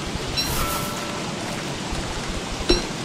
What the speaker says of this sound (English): I think it's the rain that's making my sanity go down so fast.